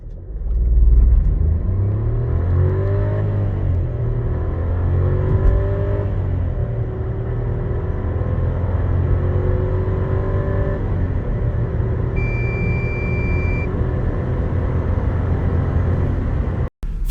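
A Seat Arona 1.0 TSI 110 with DSG gearbox, in sport mode, accelerating hard from a standstill. The engine note rises steadily through several gear changes and holds a loud, close drone with no talking.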